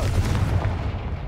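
A blast from the Confringo explosive spell in Hogwarts Legacy gives a single loud, deep boom with a rumbling low-end tail that fades over about a second.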